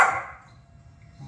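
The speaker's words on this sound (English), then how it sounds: "I know you want the mouse, but you don't need to be barking." A single short bark from Cooper the dog, sharp at the start and then trailing off into quiet room noise, loud and close with no talking over it.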